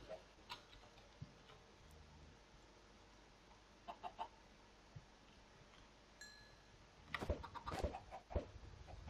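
A chicken in a video game with a zombie spawner gives faint clucks among sparse ticking clicks, then a louder burst of clucking and chirpy game sounds near the end, with no speech.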